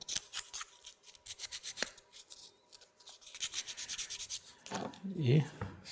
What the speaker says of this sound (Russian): зачистим торцы наждачной бумагой